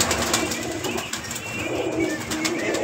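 Highflyer pigeons in a loft in Gujranwala produce a busy mix of flapping wings and soft cooing, close and fairly loud, with fluttering bursts over a steady background.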